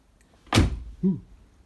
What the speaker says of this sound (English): Doors shut. Shuts nicely.